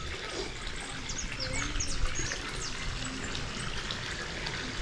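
Water arriving from a pump into a tank on a farm in Porto Murtinho, Brazil, a continuous gushing trickle heard close, with faint bird chirps outdoors in the background.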